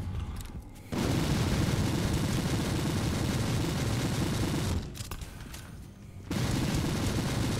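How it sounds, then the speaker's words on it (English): Sustained machine-gun fire from Warhammer 40k: Inquisitor – Martyr pours out in dense, booming bursts, one long stream of shots, a brief lull, then another heavy burst to the end. "So, just a machine gun. Full fire on that thing."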